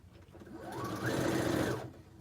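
A sewing machine stitches quilt block pieces in one brief run, its motor whirring up in pitch, holding, then easing off, close and moderately loud with no talk.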